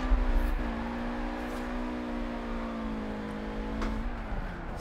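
A car drifting through streets in Forza Horizon 4 with a steady, sustained engine drone that dips in pitch near the end, plus a faint tire-squeal texture, close and continuous with no speech.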